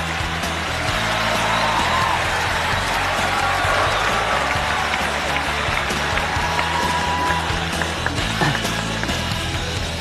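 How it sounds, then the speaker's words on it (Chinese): Applause from a studio audience on a Chinese TV talent show welcoming a fruit-carving contestant, a steady loud wash of clapping filling the whole stretch with cheering voices mixed in. "掌声有请。"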